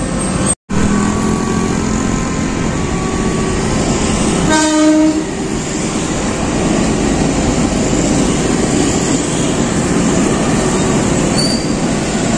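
A KRL commuter train rumbles past loudly and continuously in Tangerang, with a short horn blast partway through over the steady roar of the wheels.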